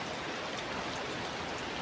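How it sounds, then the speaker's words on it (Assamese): Heavy rain falls steadily on a waterlogged home courtyard as a dense, even hiss, close and unbroken for a couple of seconds. "একদম কিমান ডাঙৰকৈ বৰষুণ দিছে"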